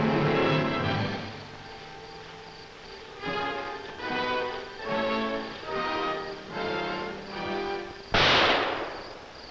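A single sharp crack from a .22 rifle rings out in a film scene near the end, following a stretch of pulsing, droning tones.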